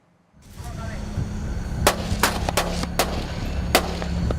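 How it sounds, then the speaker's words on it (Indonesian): A warning gunshot is fired into the water from a patrol boat during the seizure of a foreign vessel in Natuna waters, Indonesia. Several sharp reports ring out over a steady boat engine rumble. "Tembakan peringatan ke air."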